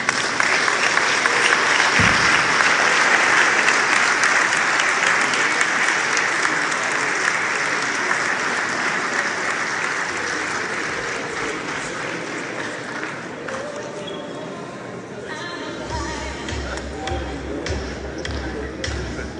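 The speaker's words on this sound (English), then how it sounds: "Please, another round of applause for him." Sustained applause from a conference audience at a national pharmaceutical society meeting, a dense wash of clapping that thins gradually toward the end as a low hum rises beneath it.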